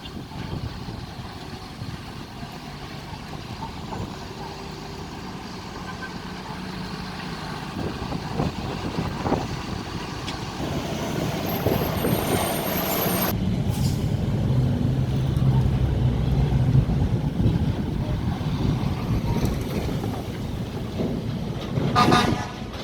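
Vehicle traffic on the newly opened three-mile overpass in Kingston, Jamaica: a continuous rumble of passing cars and trucks, growing louder midway, with a long horn toot and scattered honks.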